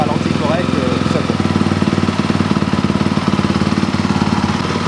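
Motorcycle engine idling steadily after the idle screw was readjusted, a close, even mechanical chug running through the whole stretch while someone speaks over it.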